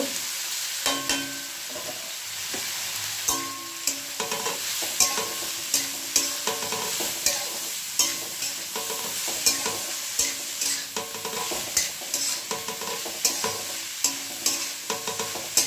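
Boiled cabbage being added and stirred in a frying pan, with a steady soft sizzle under repeated scraping and clinking strokes of the spoon at a regular pace, close up.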